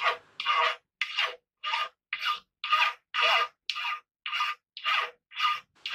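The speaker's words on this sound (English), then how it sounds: "I'm filing it here just to show you how easily I can remove material" Metal file rasping across an unhardened steel blade at a blacksmith's bench, about a dozen rhythmic scraping strokes with short gaps between them, close and clear with no talk.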